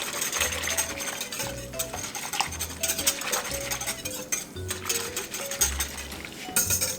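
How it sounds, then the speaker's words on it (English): A whisk stirring green chile chicken enchilada soup in a pot, with repeated metallic clinks and scraping strokes in an irregular rhythm, close and fairly quiet, with no talking. "I'm actually going to use a whisk and just kind of whisk this up a little bit"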